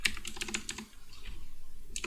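Typing code on a computer keyboard, a quick run of crisp key clicks for about a second, a brief pause, then a few more keystrokes at the end, close and fairly quiet.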